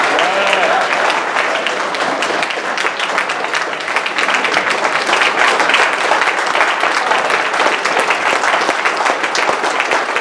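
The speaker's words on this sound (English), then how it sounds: "Let's give a big round of applause." A big round of applause from an audience at a gathering honoring hometown heroes and living legends: loud, continuous clapping filling the whole stretch with a steady, rattling texture.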